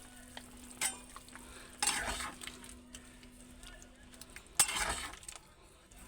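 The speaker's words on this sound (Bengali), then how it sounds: "এটাকে ভালো করে নাড়িয়ে দেবে" Spices get stirred into a tengra fish curry sizzling in a pan, with a steady low fry under several distinct scraping stir strokes and light metallic clinks, spaced a couple of seconds apart.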